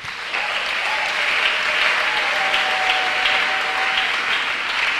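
Audience applauding steadily at a church gathering, a sustained wash of clapping that holds loud and even throughout, with a faint voice briefly audible beneath it.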